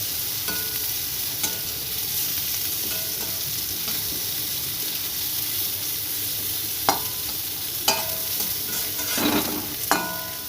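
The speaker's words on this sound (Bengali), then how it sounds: "উচ্ছেগুলো নুন হলুদ মাখিয়ে আমি ভেজে নিচ্ছি" Bitter gourd pieces coated in salt and turmeric fry in a pan with a steady close sizzle, while a spatula stirs and scrapes them in several sharp clinks and scrapes near the end.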